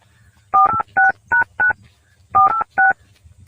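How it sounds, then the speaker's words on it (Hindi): Telephone number being dialed: seven crisp dual-tone keypad beeps, a quick burst of four, a short pause, then three more, loud and close over a faint low hum. "रुको फोन लगाते हैं उसके पास।"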